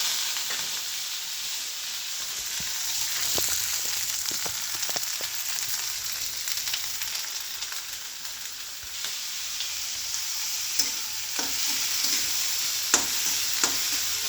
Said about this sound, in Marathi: आता लालसर भाजून घेऊया सगळं आणि पोळ्यांसारखं परतून घेणार आहे।